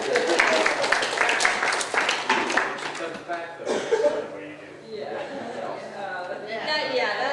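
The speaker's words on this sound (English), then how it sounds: "More applause for Anne-Marie." Presentation audience applauds a participant, a burst of clapping and murmuring chatter that tapers off, with voices and a chuckle mixed in underneath.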